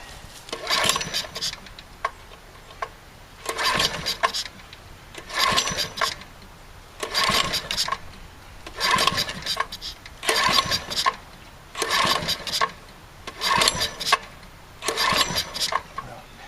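A small engine is pull-started with the choke on and the switch turned on, after gasket work. About eight cranking bursts come at a steady two-second rhythm, close and fairly loud, and the engine never settles into a run.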